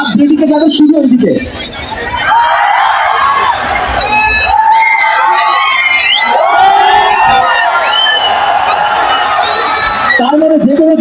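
A crowd of students at a student fest and book fair in Debidwar shouts loudly in unison on command, a sustained roar of many voices with rising and falling cheers, briefly preceded and followed by a single person speaking.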